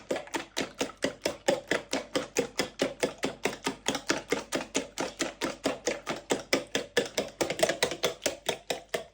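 Egg white beaten by hand in a bowl, a fast, even run of sharp rhythmic strokes, loud and close, continuing throughout.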